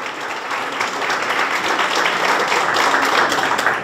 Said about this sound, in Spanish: fuerte el aplauso para Valentino Aliano